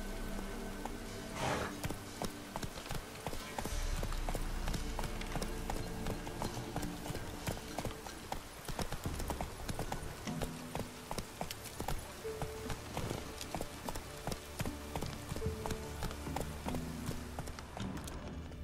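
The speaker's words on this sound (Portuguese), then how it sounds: "Ali os cavalos." Horse hooves clip-clop steadily in The Witcher 3, a rapid, continuous rhythmic clatter of several horses trotting, fairly loud and close throughout.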